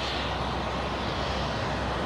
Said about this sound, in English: Four CF6 engines at full power.